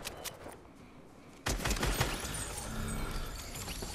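Bursts of gunfire in a Fortnite match: a few sharp shots at first, then after a brief lull a loud, dense volley of rapid shooting close by that carries on to the end.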